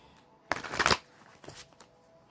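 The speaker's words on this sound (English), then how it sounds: "Spirit says, shuffle one more time." A deck of tarot cards is shuffled once, giving a brief, quiet riffling burst close to the microphone, followed by a few softer card taps.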